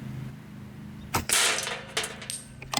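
A RAW HM1000X LRT air rifle shooting a pellet off its regulator gives one sharp snap with a quick metallic ring, followed by faint clicks, close and otherwise quiet.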